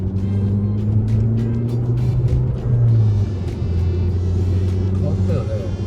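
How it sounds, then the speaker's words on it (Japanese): A cheap used Italian car, parked long on a gravel lot, idling and pulling away with a low, steady engine drone and a dry-sounding muffler note, close up, under ongoing conversation. "エンジンそのマフラーの音がね、ちょっと乾いたような"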